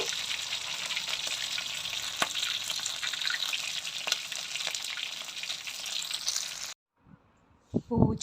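Food frying in hot oil, a loud continuous close sizzle with small pops that cuts off abruptly near the end, followed by a few faint knocks.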